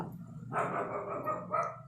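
Dogs bark in a close, loud burst that starts abruptly and carries on for over a second, with no talking.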